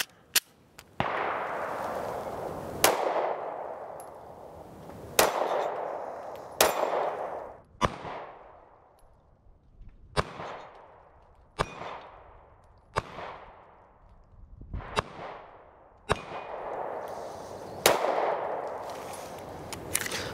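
A Ruger LC9S compact 9mm pistol fires about nine single shots at an unhurried, uneven pace, each loud crack trailing off in a ringing echo, with no talking between them.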